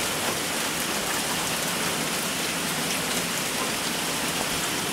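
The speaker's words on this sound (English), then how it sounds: "It's a big rainstorm." Heavy rain from a big mountain rainstorm pours down steadily outside a porch, a dense, unbroken hiss of drops on surfaces with no voices.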